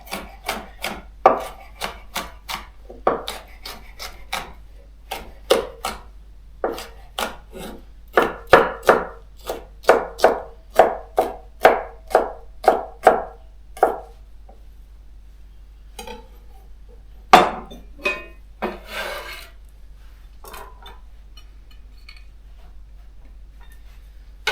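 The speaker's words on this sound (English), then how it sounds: "the rest of this pepper I'm going to cut into strips the long way around. And then into cubes" Knife chopping a bell pepper into strips and then cubes on a cutting board, a long run of crisp, close, evenly spaced taps that thin out into scattered cuts near the end.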